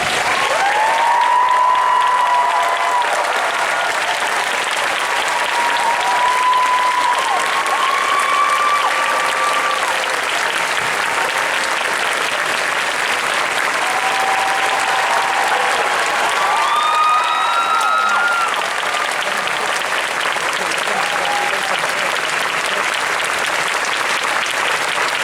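A large crowd at Disney's Hollywood Studios 35th anniversary ceremony applauds loudly and steadily, with occasional whoops and cheers rising above the continuous clapping.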